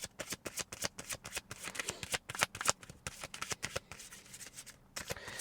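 A tarot deck is shuffled by hand, its cards giving rapid, crisp riffling and slapping bursts in an uneven rhythm, close and fairly loud throughout with no voices.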